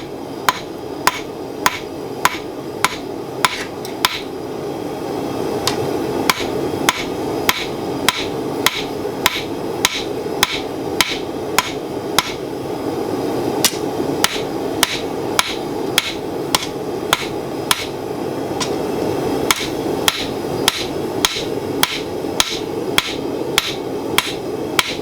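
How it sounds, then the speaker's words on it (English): Steady, evenly spaced hammer blows ring out on hot steel being forged into a spoon, loud and sharp, continuing in a regular rhythm over a constant background roar. "Let's whack it with a hammer."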